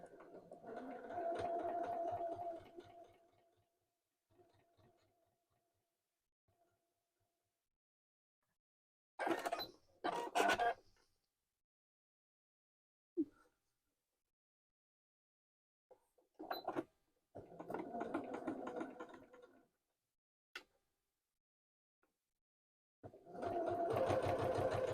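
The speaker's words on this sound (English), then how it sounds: "I'm going to baste down the sides of these pockets with a 1/4 inch seam allowance" A sewing machine basting down the sides of wallet pockets runs in short bursts of rapid stitching, stopping and starting several times with quiet pauses and small handling clicks between runs.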